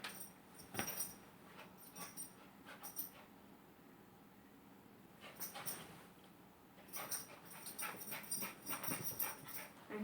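A pet dog whimpers softly indoors in short, faint, scattered whines and sniffs, with quiet pauses between bursts.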